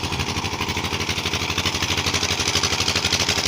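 A village tube well pump engine running in cold weather, a steady loud mid-pitched chugging drone with a fast regular pulse, close by and continuous with no voices.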